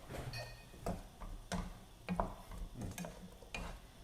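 Asparagus and shrimp stir-fried in a pan, with a spatula clacking and scraping against the metal in irregular taps over a faint sizzle, fairly quiet and close, no talking.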